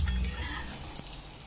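Chicken pieces for an eggless chilli chicken fry in hot oil, producing a brief, fairly loud, bubbling sizzle that fades slightly over a second and a half, with a faint clink near the end.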